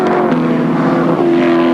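Win Percy's race car laps the track at the 1987 Bathurst 1000, a loud, steady engine drone held close throughout with a brief dip in pitch before it climbs again.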